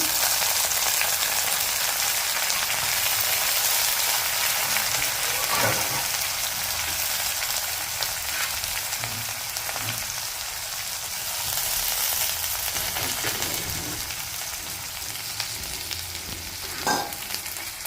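Chana dal frying in a pan for banana flower curry, a steady bright sizzle that fills the whole stretch, with a few soft clinks of stirring and no talking.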